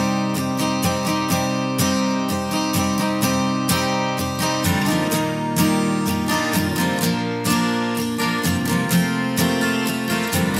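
A high-strung Martin vintage acoustic guitar blended with a Gibson J45 acoustic, steady strummed chords with bright attacks in a full, even rhythm, played alone with no voices.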